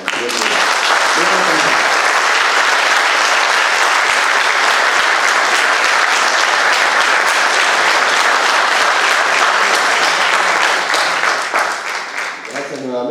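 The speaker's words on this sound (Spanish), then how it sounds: "otro aplauso para las flores uruguayas." Loud, sustained applause from a large audience at the official launch of the Flora Uruguaya Online platform, a dense wash of hand claps that holds steady for over twelve seconds before thinning at the end.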